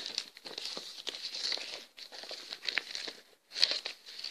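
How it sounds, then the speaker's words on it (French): Paper rustles and crinkles up close as a sheet is handled, with soft irregular scraping and a brief pause near the end. "Je vais prendre ma feuille."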